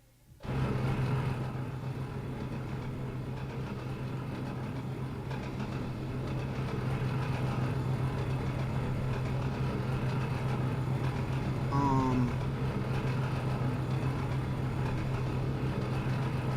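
A log train rolling along in the Trainz simulator produces a continuous, steady rumble with a low sustained hum and faint brief squeals partway through, no talking.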